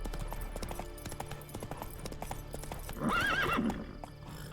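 Roach, the horse in The Witcher 3, gives a loud, close, rising-and-falling whinny near the end, preceded by steady clip-clop of hooves on the move.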